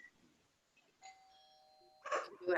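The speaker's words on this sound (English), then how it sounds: "Sorry about that doorbell and dogs." A doorbell chimes in a home during an online school board policy committee meeting, with long sustained ding-dong tones, followed by a burst of dogs barking loudly near the end.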